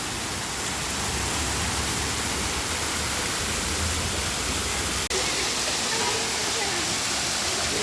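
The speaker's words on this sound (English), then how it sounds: "as you guys can see, the waterfall is just beside the road" Bakthang waterfall beside a road in Gangtok, Sikkim, running at a low water level, gives a steady, loud broadband rush that continues unbroken, with one brief click near the end.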